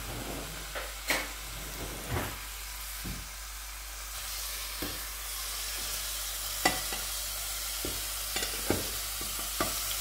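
Food sizzles steadily in a worn pan that everything sticks to, with a soft continuous hiss broken by scattered clicks and scrapes of stirring; no voices.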